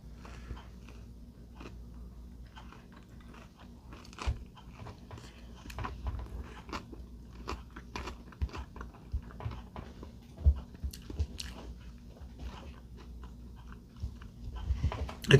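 Someone bites and chews a crunchy-bottomed slice of frozen Nick and Vito's pizza from Walmart, with close, irregular crunches and mouth clicks that grow louder toward the end, no talking.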